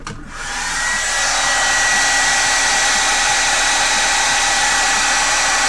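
A hair dryer blows steadily on a sketch, starting with a brief click and rising quickly to a loud, constant close-up whoosh that continues without pause.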